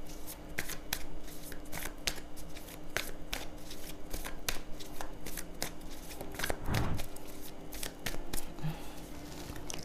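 Tarot cards being shuffled for a reading, a dense run of crisp riffling flicks and slaps close up, steady throughout with no talking.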